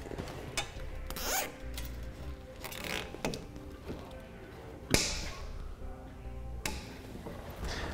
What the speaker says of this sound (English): I'm just going to use a couple of zip ties and get it secured to our base plate.